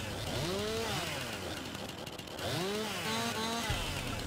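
In Farming Simulator 19, a chainsaw cuts logs, its engine revving up and down in two long, loud cutting passes with a steady buzz between them; no voices.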